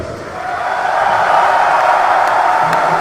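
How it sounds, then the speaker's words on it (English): A crowd at a military combatives championship fight roars with steady, dense applause and cheering that swells slightly and holds loud throughout. "Applause, people are going crazy."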